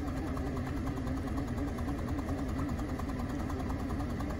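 A Geely Tugella engine runs off-road in the mountains with a steady, even mechanical drone and rapid pulsing, faint and continuous at a moderate pitch, with no talking.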